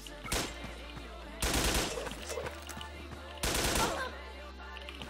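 Gunfire in the online shooter Wolfteam, heard as three loud bursts of rapid automatic shots separated by quieter stretches.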